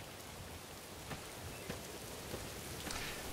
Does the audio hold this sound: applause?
no